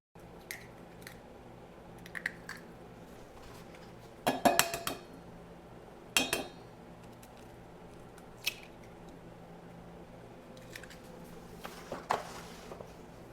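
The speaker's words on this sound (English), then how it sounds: "So we'll just beat the eggs for a minute or two now." Eggs are beaten by hand in a bowl for a veggie omelette, with faint scattered clinks and taps of utensil on dish and a few louder bursts, quiet and close, with no talk.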